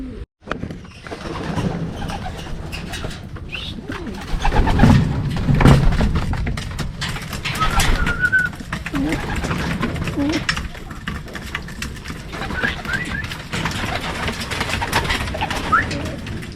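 Racing pigeons coo repeatedly at a loft during a rainy-season race, low throaty calls mixed with thumps, wing noise and people talking nearby.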